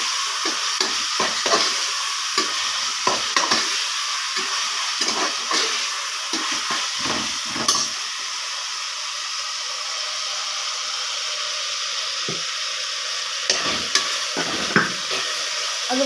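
Tomatoes sauteing in a pan while being stirred for a Tamil paruppu arisi sadham (lentil rice), giving a steady sizzle and hiss with repeated scraping stir strokes that come in bursts and then pause.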